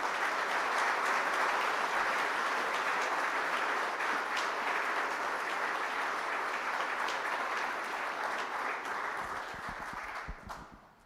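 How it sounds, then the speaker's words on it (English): An audience claps for a Community Icon Award recipient at a government event, with sustained, dense applause from a large crowd that gradually thins and fades toward the end. "Give him a round of applause."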